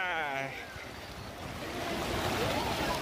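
River water flowing at Sahastradhara waterfall near Dehradun, a steady broad rush and wash with wind buffeting, while voices talk over it.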